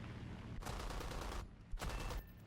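Two long bursts of rapid, rumbling anti-aircraft gunfire at a distance in the video game War Thunder, heavy and continuous, separated by a brief pause over a steady low background drone.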